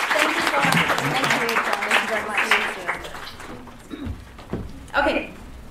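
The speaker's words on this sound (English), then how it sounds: "give a round of applause to Olivia" Applause breaks out at a tech-industry career panel discussion, a burst of clapping heard under overlapping talk, which then gives way to speech and a few scattered knocks.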